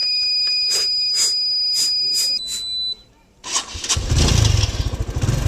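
Rapid cranking clicks and beeps give way to a motorbike engine, fitted with an Arduino alcohol-sensor ignition lock, catching and roaring into a loud, throbbing idle close by.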